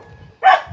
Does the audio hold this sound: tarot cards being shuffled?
no